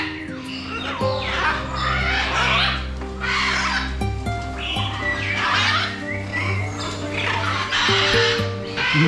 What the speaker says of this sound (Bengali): ম্যাকাও পাখিদের চিৎকারে আমরা নিজেরাই কিছু শুনতে পারতেছি না